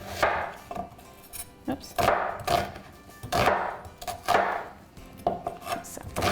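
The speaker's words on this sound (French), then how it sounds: "L'oignon aussi, je vais hacher moyennement parce que je veux aussi que ça soit doré." A knife chops an onion on a cutting board in a series of uneven close taps and scrapes, with a brief spoken exclamation.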